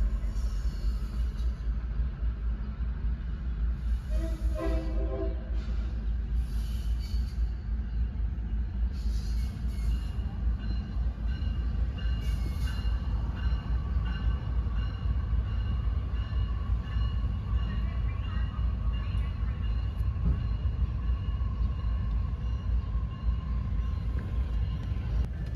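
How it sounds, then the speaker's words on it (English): A Metra Electric commuter train arrives into Homewood with a steady rolling rumble of wheels on rail, faint squeals and a brief horn-like tone, heard from trackside with no talk. "And here we see a Metro Electric train arriving into Homewood."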